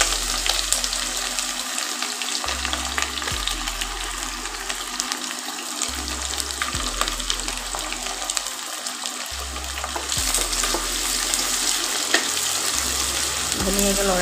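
Sliced onions fry and sizzle in hot oil with mustard seeds, cumin and bay leaves for a duck curry, a steady crackling hiss with occasional stirring scrapes, alone and close.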